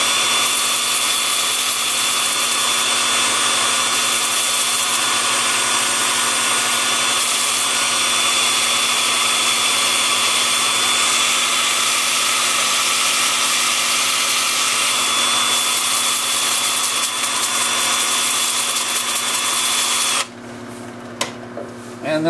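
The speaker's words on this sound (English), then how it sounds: "I'll turn to my 2-inch disc starting at 80 grit and working up through 400" A 2-inch sanding disc runs against an oak burl spinning in reverse on a wood lathe, a loud, steady whirring hiss that holds for about twenty seconds and then stops abruptly.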